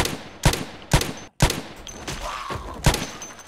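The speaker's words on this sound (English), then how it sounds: "Let's just shoot them." Video game gunfire in a desert survival setting, rifle shots aimed at zombies: five or six heavy, separate bangs at uneven intervals over a steady background rumble, close and fairly loud, no voices.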